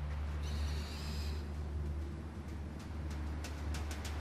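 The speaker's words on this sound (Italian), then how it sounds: "andiamo a chiamare il nostro amico Gufo" An owl hoots in Far Cry Primal's prehistoric wilderness, a brief call standing out early over a steady low ambient hum, followed by faint scattered clicks.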